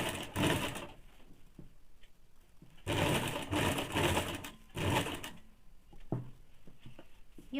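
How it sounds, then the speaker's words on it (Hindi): A sewing machine stitches woolen fabric for a baby frock in three loud bursts of rapid stitching, with quieter pauses and small handling clicks between them. "इस प्रकार से सिलाई कर लेंगे।"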